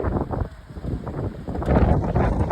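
Strong sea wind at Pamban bridge near Rameswaram buffets the microphone in a steady, close roar that swells louder toward the end, with no speech.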